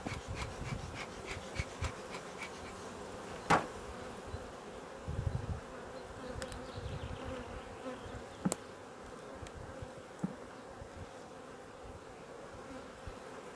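Honey bees in a hive buzz steadily while a beekeeper puffs smoke over them, a dense insect hum with a few sharper knocks and handling noises, no talking.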